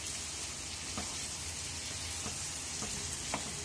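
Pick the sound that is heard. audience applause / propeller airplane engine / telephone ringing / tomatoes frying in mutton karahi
tomatoes frying in mutton karahi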